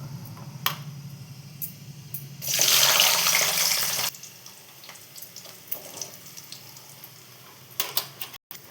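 Chopped onions sizzle in hot oil in a pan for a drumstick and brinjal curry, a loud burst of frying at first that settles into a quieter steady sizzle with light clinks of stirring.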